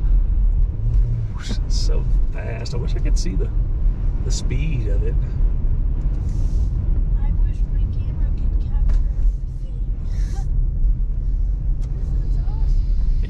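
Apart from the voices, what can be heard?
wind on a car driving up Pikes Peak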